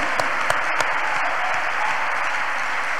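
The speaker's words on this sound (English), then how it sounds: "Clap your hands unto God of the choosing." A church congregation claps hands together in a steady, dense wash of applause, loud and continuous with a few sharper claps standing out, no talk over it.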